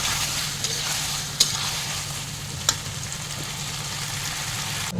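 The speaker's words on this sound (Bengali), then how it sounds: "এবার মুখি কচুটা মশলার সাথে ভালো করে কষিয়ে নেব" Taro chunks sautéing with spice paste and green chillies in a pan, a continuous close sizzle with occasional light clicks of a spoon against the pan, steady and without speech.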